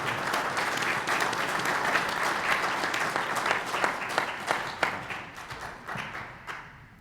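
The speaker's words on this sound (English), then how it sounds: "applaud yourselves for being with us this Friday morning" Applause from a large crowd of attendees at a Friday morning community event, a dense, steady wash of many hands clapping that holds strong for most of the stretch and then thins and tapers off near the end.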